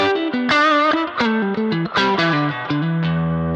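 Electric guitar played through the spring reverb of a Boss Katana amp, a run of sustained chord and note changes ringing out with a bright, lush tail, close and loud with no talk.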